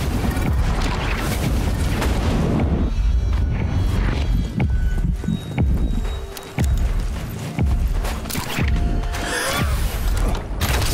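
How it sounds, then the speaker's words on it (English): Turret fire in the video game Naraka: Bladepoint, a run of heavy, closely spaced booming shots with mechanical clanks, loud and continuous with brief gaps, no talk over it. "You can actually use turrets in this game, which are classed as epic weapons, and you can do massive damage and kill people in like one shot"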